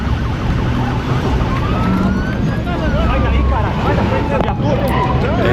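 Police car siren wailing loud and close during a chase in Brazil, rising and falling tones over steady engine and road noise.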